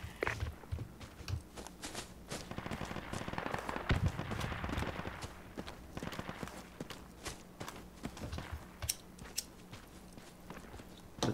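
Distant enemy gunfire from the north crackles in a video game as a long stretch of scattered, rapid sharp pops, fairly faint, with irregular clustered bursts throughout.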